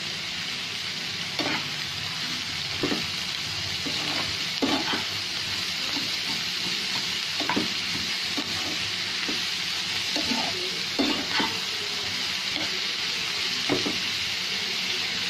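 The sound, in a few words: onions frying and being stirred in a pan for onion curry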